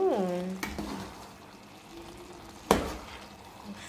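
A pot of dhal being stirred and mixed, with soft scraping and frying sizzle, a couple of sharp clanks of the spoon against the pot, and a brief tonal whine near the start.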